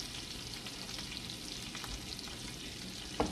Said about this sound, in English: nice hot pan. That butter's going to brown really nicely.